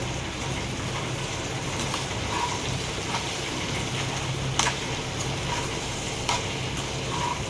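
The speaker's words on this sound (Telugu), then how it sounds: "చాట్ మసాలా, వేసుకొని బాగా కలుపుకోవాలి" Bhindi aloo fry sizzles steadily in a pan as chaat masala is stirred through, a dense continuous hiss with occasional soft scrapes and taps of the spoon, and no speech.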